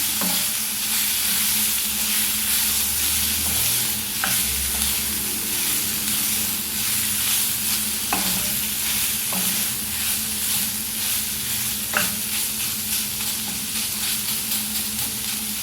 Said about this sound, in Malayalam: ചിക്കൻ ചേർത്ത് നല്ലതുപോലെ മിക്സ് ചെയ്തെടുക്കാം